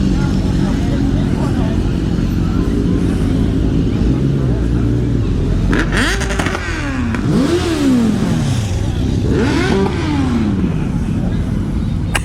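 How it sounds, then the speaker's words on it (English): Motorcycles at a motoring festival roar past one after another, engines revving up and dropping in pitch as they go by, loud over steady traffic rumble. "Some more bikes."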